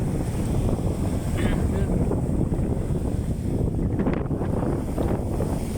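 Big sea waves and strong southwest monsoon wind at a shore where fishing boats are kept, heard as a constant loud roar of gusts buffeting the microphone over churning surf, with no break.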